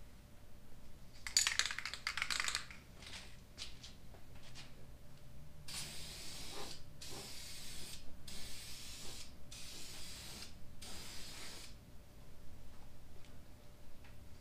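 A spray can mists coating onto a car headlight in several short, hissing bursts separated by brief pauses, after some faint handling clicks, heard close but quiet.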